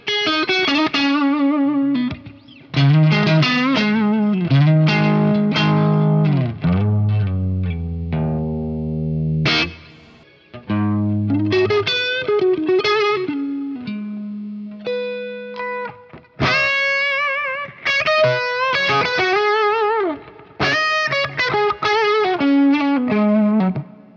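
An electric guitar played through effects pedals, including overdrive and an always-on suite: loud, sustained distorted lead phrases with bends and held notes, brief pauses between runs, and no talking.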